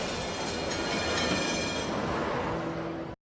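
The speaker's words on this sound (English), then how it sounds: "nearly gets hit by a tram" A passing tram rumbles along its rails with a steady, fairly faint roll that cuts off abruptly at the end.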